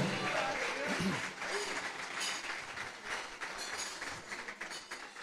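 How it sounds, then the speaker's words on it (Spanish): A crowd claps at a live party in a function hall during a singer's performance, a dense continuous patter of applause lasting several seconds and slowly thinning out, with some voices mixed in. "que se escuchen los aplausos"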